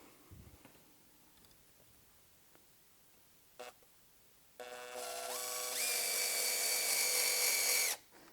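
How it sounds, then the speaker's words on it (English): A power drill drives screws into a bracket on a studio reformer, a few faint taps and clicks first, then a loud whining run that rises in pitch and cuts off. "And then I'll put my screws in."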